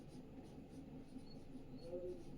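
Faint scratching of writing strokes on a board or paper during a classroom lesson, soft repeated scrapes in a quiet room.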